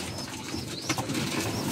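Racing pigeons in a loft give soft, low cooing calls, faint and brief against a quiet background rustle, with no talking.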